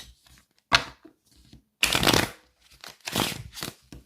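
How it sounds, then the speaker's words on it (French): Deck of playing cards shuffled by hand, with several separate bursts of crisp riffling and flapping, close and fairly loud, split by short pauses. "il va mélanger comme il souhaite"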